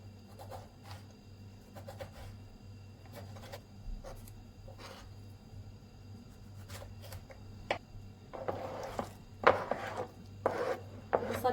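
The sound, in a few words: chopping tomatoes coarsely with a knife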